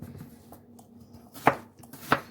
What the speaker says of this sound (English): Then I cut it in little cubes like so.